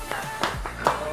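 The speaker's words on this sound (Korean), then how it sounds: "박수." Three sharp hand claps in quick succession on a Korean variety show studio set, close and crisp over a low background hum.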